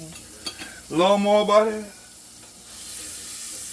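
Butter sizzles in a hot frying pan on a stovetop while sausage bread cooks, a soft steady hiss with a brief tonal, voice-like sound near the start.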